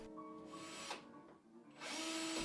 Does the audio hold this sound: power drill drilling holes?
yes